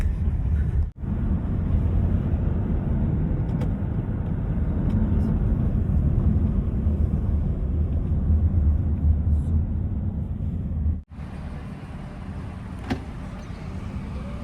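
A Toyota Crown taxi in Dubai heard from the back seat: a steady low road and engine rumble with faint voices underneath, broken by two short sharp cuts before the drive continues.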